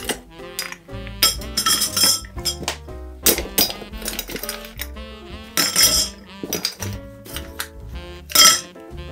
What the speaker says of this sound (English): And then we're gonna pop some ice to cool it down.